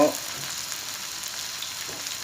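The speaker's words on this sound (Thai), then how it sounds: "ส่วนของเห็ดเราก็ผัด ผัดไปเลยนะครับ" Mushrooms stir-fry in a hot pan next to salmon steak, a dense sizzle and crackle that stays steady and close, with a brief clatter at the start.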